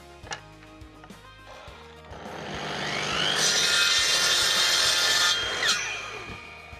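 A saw cuts through small beech wood spacers, rising from scattered taps into a loud, sustained rasping stroke that peaks midway and then fades out, heard close and without talk.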